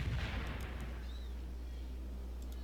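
Distant booming gunfire and artillery-like blasts in a war video game, a faint rumbling burst at the start fading into a low continuous wash of battle noise.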